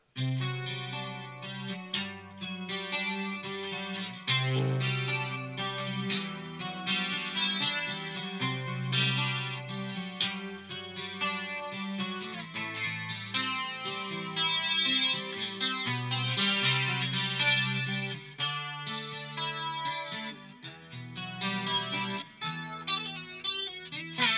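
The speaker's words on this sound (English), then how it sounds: "it actually sounds pretty similar to a 12-string guitar" Shimmering, chiming modeled twelve-string guitar sound from a Line 6 Variax with a chorus effect, a bright jangle, played continuously with steady strummed chords and picked notes throughout.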